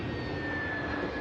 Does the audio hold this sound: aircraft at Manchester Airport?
yes